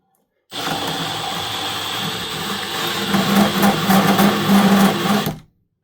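A power drill bores through metal on a job site, its steady motor whine running alone for about five seconds and growing louder and heavier partway through as the bit bites, then cutting off.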